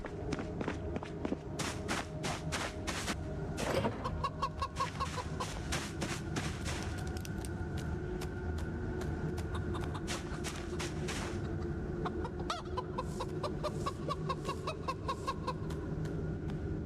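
Chickens in the Project Zomboid survival game clucking close by amid steady footsteps and rustling movement, with repeated short clucks over a constant game background.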